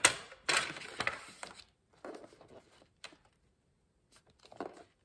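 Creasing a fold line into a 30x30 cm paper sheet while crafting a DIY secret box: a few close, dry scraping and rustling strokes in short bursts separated by brief pauses, with no voices.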